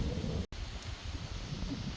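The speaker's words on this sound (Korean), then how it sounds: "지금 바람이 너무 많이 불어가지고 바람 소리가 너무 많이 들어갈 것 같아서" Strong wind blowing outdoors on a countryside walk, a steady roaring rumble buffeting the microphone, with a brief dropout near the start and no voices.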